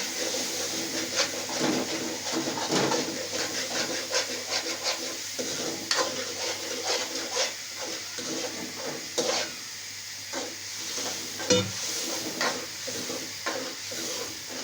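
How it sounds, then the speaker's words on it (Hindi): Whole cumin seeds sizzle in hot oil while being stirred in a pan for whole moong dal, with a continuous crackling fry broken by frequent scraping strokes, close and fairly loud, no talking. "साथ में साबुत जीरा भी डालेंगे थोड़ा सा"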